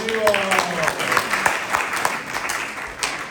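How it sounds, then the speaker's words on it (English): Applause from a conference audience, scattered hand claps rising and thinning over a few seconds, with a voice talking through the opening moments. "Round of applause"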